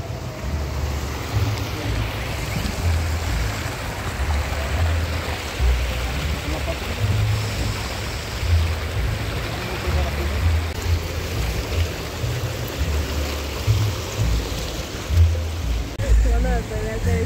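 Floodwater rushes through a flooded street in San Cristóbal, Ecatepec, a continuous loud wash with gusting wind noise on the microphone, while people talk now and then over it.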